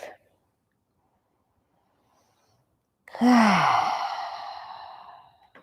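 A single long, deep exhale during a gentle hatha yoga practice for neck and shoulders, loud and close after near silence, trailing off slowly over a couple of seconds.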